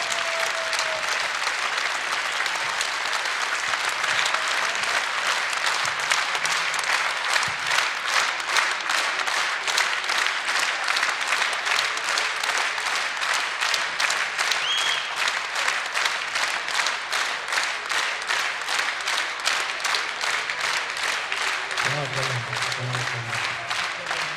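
Sustained, loud applause from a theatre audience welcoming the folk ashugh Razmar Sasuntsi to the stage at his 60th birthday celebration, steady dense clapping filling the whole stretch without a break.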